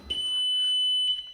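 A steady high-pitched electronic warning tone sounds as the ignition comes on in an R32 kart built from a Nissan Skyline. It is loud and continuous for over a second and sits close by.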